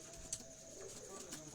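Pigeons on a rooftop loft, a soft cooing in the background, faint and low amid outdoor ambience with a sharp click or two.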